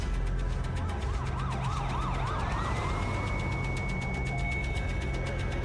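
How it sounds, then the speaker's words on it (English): An ambulance siren in the game Dead by Daylight wails steadily, first in a rapid rising-falling yelp, then a long held tone, with a vehicle engine rumbling underneath. "Ambulance."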